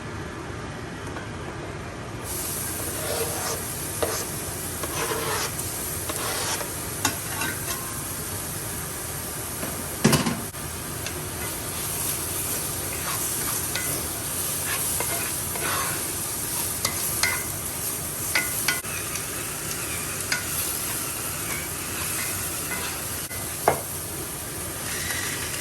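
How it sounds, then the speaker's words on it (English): Food sizzling steadily in a smoking hot frying pan, a constant close crackle with occasional clanks and stirring scrapes, one sharper knock midway. "into my smoking hot frying pan it goes"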